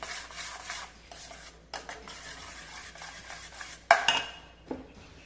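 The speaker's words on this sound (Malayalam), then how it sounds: "നന്നായിട്ട് ഇളക്കി കൊടുക്കാം" A soap mixture with rose water, glycerin and butterfly pea flower juice is stirred in a bowl, making soft, continuous scraping and swishing with a few light clinks of the utensil against the rim, all close and quiet.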